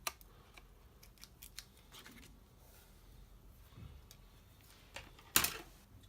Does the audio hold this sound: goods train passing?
no